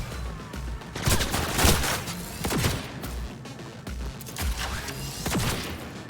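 Repeated gunfire in Cyberpunk 2077 bursts in close, loud volleys at irregular intervals over a rumbling game soundscape.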